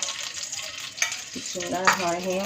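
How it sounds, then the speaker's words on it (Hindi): Desi ghee heats in a pan as a continuous sizzle, with a couple of brief stirring clinks and scrapes near the middle and end. "देखें हम डालते ही घी गर्म होना शुरू हो गया।"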